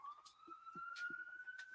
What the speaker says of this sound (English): More sirens. That time a cop.